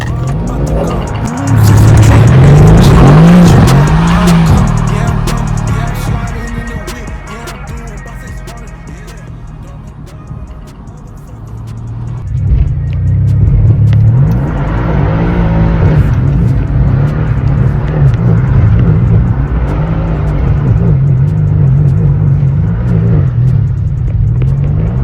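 A 600hp AMG does a burnout on cheap tires, with loud sustained engine roar and screeching tire squeal rising and falling in two long bursts, close by and with no talking.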